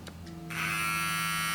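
A Babyliss Pro FX hair clipper with a rotary motor and cam follower switches on partway through and runs with a steady, close buzzing hum.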